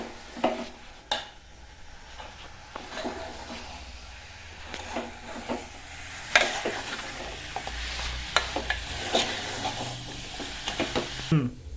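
Ground spices are stirred slowly through a mutton curry in a pan, giving soft scraping strokes over a low sizzle, with sporadic clinks of the spoon against the pot and some quiet background noise.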